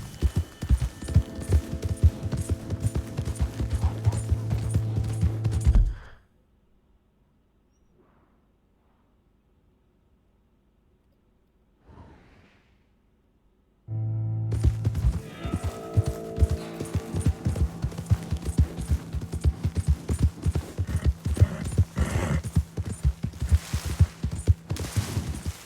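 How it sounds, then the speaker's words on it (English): Horse hooves clip-clopping in Red Dead Redemption, steady rhythmic steps over music, cutting to near silence midway before resuming with the same trotting beat. "Hey! My horse!"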